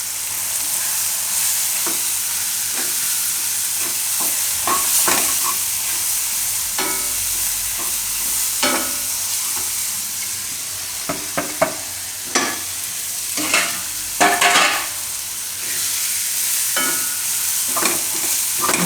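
Masala and tomatoes stirred in hot oil in a pan, a loud steady sizzle with repeated scraping spoon strokes that grow busier toward the end, close and without speech.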